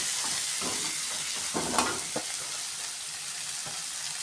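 Cashews sauté in oil in a pan for rava kichadi, giving a continuous bright sizzle with a few spoon scrapes and taps as they are stirred, close and steady, no voices.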